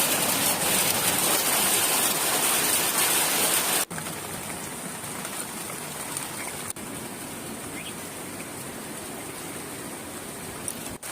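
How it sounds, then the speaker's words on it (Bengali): Steady rain patters down on tree leaves in a dense, even hiss, continuous throughout with a slight drop in level partway, no voices. "গাছের পাতার উপর এইভাবে যদি বৃষ্টির জলটা পড়ে"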